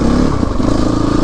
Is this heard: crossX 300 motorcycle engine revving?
yes